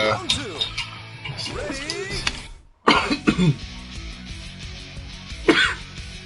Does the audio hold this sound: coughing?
yes